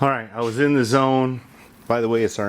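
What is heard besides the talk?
None of the usual background noises is heard.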